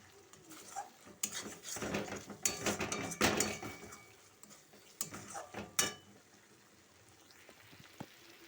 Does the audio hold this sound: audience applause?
no